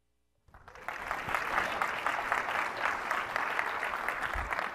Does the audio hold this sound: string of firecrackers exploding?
no